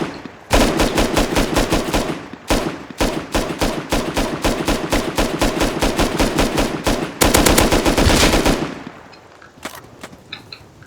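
Rapid automatic gunfire in the survival video game Rust rattles in long, dense bursts of loud, evenly spaced shots with one brief pause, then fades into quieter distant pops at the end.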